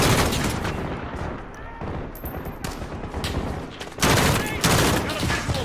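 Gunfire in the Modern Warfare video game's embassy campaign mission: dense bursts of automatic rifle fire and overlapping shots, loud and continuous, with occasional talk underneath.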